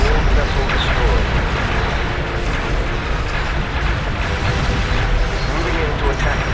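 Loud, dense rumbling explosion roar as a Borg vessel is destroyed in the space combat video game Star Trek: Legacy, a continuous booming wash filling the whole stretch with game voices mixed under it.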